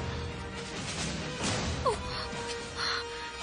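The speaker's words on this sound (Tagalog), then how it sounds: "Nilupad ang uwak." A crow gives a couple of short caws amid a busy, noisy background.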